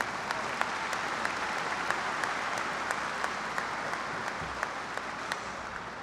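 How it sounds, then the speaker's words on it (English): A large audience at the Texas A&M University-San Antonio Fall 2016 commencement ceremony applauds steadily throughout, a dense, even wash of clapping that fills the hall without a break. "Please give all of these people a huge round of applause."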